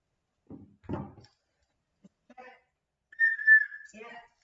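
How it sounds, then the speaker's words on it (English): A short, bright whistle tone rings out for about a second, played as a sound effect during a home-hosted quarantine quiz show, following a few faint thumps and brief speech-like bits. "Is the whistle working?"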